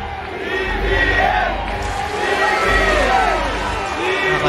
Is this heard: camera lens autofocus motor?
no